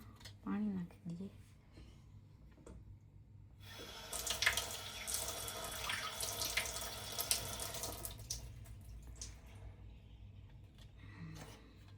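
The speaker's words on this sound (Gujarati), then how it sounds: "આમાં પાણી નાખી દઈએ." Tap water runs into a dish at a kitchen sink in a steady broadband rush that starts partway in and fills most of the middle, with a brief voice near the start and end.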